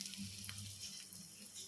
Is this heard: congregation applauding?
no